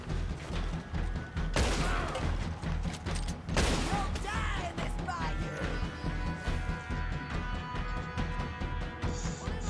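Gunshots in Red Dead Redemption 2 during a firefight at a house, several loud sharp cracks and bursts of fire over a steady background of game music and mechanical clatter.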